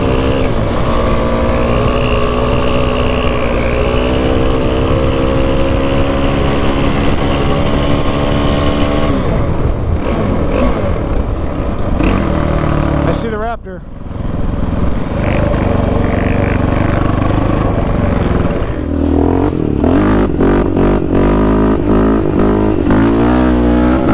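Two sport quads, a Kawasaki KFX450R and a Yamaha Raptor 700, ride close by with loud, steady engine drone that rises and falls with throttle, briefly dropping off mid-run before surging back.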